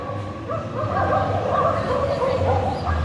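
Several dogs yip and bark at a distance during an outdoor morning walk, the calls blurred into steady background ambience with no speech.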